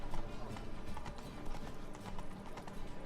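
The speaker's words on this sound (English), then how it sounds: "I don't even know why I got on the horse" Horse hooves clip-clopping in The Witcher 3, a steady trotting rhythm of close, moderately loud hoofbeats over dirt, continuing evenly throughout with faint background game ambience.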